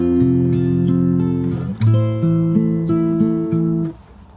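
Fingerstyle acoustic guitar plays the first bar of the second verse of a song, a run of plucked chords and bass notes in a gentle steady rhythm, close and clear with no voices.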